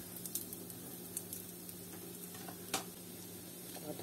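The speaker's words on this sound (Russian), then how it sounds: "Ну вот, девчонки, это минут 3 уже жарится." Food fries in a pan at home, a soft, steady sizzle with faint crackles and a few sharp ticks or pops scattered throughout, fairly quiet and close, with no talking.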